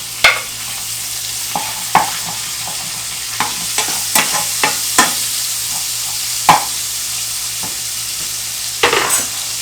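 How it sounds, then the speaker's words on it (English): Chopped bacon fries in a pan with leftover pork chop grease, a steady close sizzle punctuated by sharp scraping and stirring clacks at irregular intervals. "Now we're going to take our chopped bacon and throw it in the same pan"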